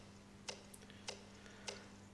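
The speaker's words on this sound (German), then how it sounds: "unsere Schritte klingen wie das Ticken einer Uhr" Footsteps in the game Where am I? that sound like a ticking clock, three evenly spaced sharp ticks over a low steady hum, fairly faint with no voices.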